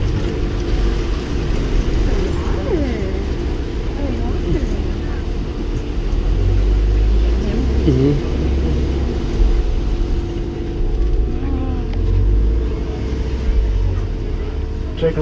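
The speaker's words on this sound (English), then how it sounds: "please stay seated while this vehicle is in motion" A Kilimanjaro Safaris open-air safari vehicle drives steadily, its low engine rumble and road noise continuous and close throughout, with faint voices talking over it.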